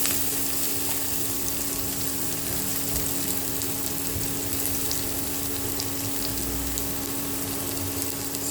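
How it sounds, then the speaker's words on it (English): Garlic frying in a pan for a Manipuri chagempomba dish, a soft steady sizzle with faint crackles throughout, under a low constant hum. "After that I put garlic."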